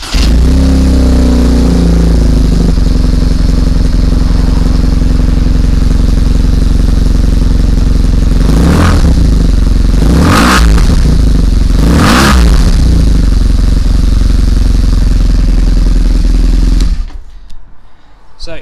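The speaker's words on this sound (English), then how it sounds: "Also, the exhaust sounds great." A BMW motorcycle's exhaust revs loudly over a steady idle, with three sharp blips of the throttle close by before the engine cuts off near the end.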